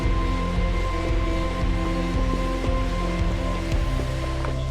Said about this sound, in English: So the rain is getting a little bit heavier now